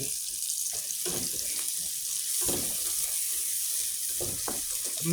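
Garlic, shallots and green chillies sizzle in a pan with a steady, close hissing crackle, stirred now and then.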